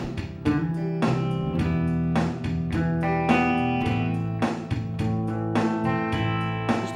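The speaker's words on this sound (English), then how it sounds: "Just arpeggiate the chords." Acoustic guitar arpeggiating open-string and barre chords, including a C barre shape, with notes picked one after another in an even, flowing pattern, close and clear with no talking.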